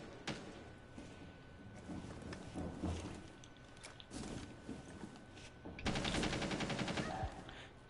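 Bursts of automatic gunfire from Rainbow Six Siege, shooting into a room from outside, rattling steadily through the clip and swelling into a dense, loud volley near the end.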